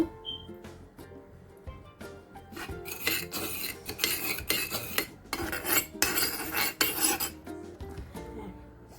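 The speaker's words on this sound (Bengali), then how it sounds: "আমি এখন মাটি পাতিলে হচ্ছে একটু সামান্য টক দই মাখিয়ে রাখবো" Sour yogurt being smeared around the inside of a clay cooking pot, with repeated scraping and rubbing strokes against the earthenware. The strokes come in louder bursts through the middle, over a faint background hum.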